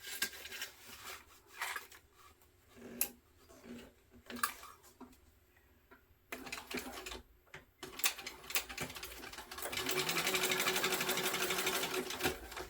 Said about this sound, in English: we're going to top stitch on the accent piece, 1/8 of an inch from the zipper